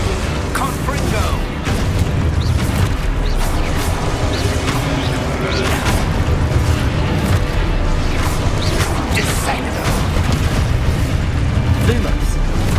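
Confringo fire spell explosions in the video game Hogwarts Legacy give a steady, loud wash of booming blasts, bursts and crackling pops that runs without a break.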